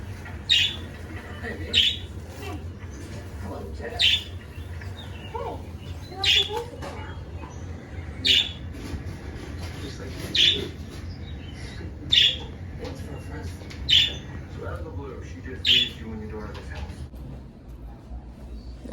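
A caged pet bird gives repeated sharp squawks and chirps at a steady interval of roughly two seconds, loud and close, with softer chatter between them and a person talking in the room.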